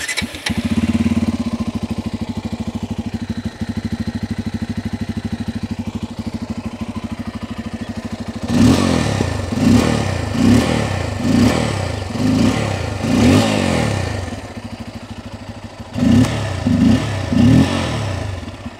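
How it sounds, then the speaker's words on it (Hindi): A Bajaj Pulsar N250 motorcycle with its stock dual exhaust idles steadily, then gives a series of about six sharp throttle blips followed by three more after a pause, each rev rising and falling loudly and close. "इसकी एग्जॉस्ट नोट मेरे को बहुत ही प्यारा लगता है एक बार आप पहले सुन लीजिए इसकी एग्जॉस्ट नोट"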